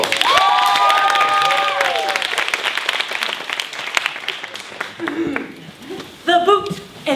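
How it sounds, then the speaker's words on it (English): A stage-show audience gives a round of applause, dense clapping and some cheering sustained for several seconds before tapering off, with voices and laughter breaking through near the end. "Can we get a one round of applause for these people?"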